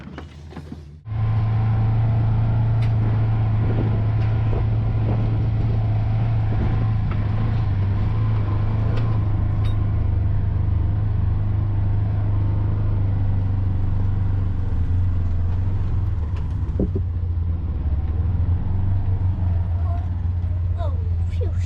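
A motorhome being flat towed back to its parking spot, with a loud, steady, low vehicle drone that starts abruptly after a second and rumbles on close by, broken by occasional creaks and knocks.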